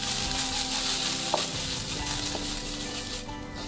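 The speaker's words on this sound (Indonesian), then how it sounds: "tumis bawang putih dan jahe" Garlic and ginger sauté in hot oil in a pan, giving a steady dense sizzle with a few soft scrapes of a utensil stirring.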